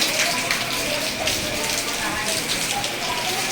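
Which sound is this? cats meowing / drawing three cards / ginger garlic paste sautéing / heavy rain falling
heavy rain falling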